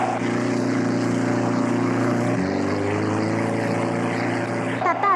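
Snow scooters rev away across a snowy landscape in a steady, loud engine drone that dips in pitch partway through and swells again at the end.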